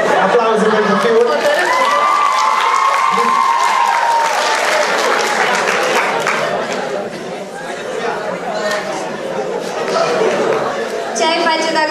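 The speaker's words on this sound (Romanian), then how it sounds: "Aplauze pentru fiul!" A crowd claps and chatters at a school freshmen's ball, a loud, continuous mix of applause and overlapping voices that dips briefly before swelling again.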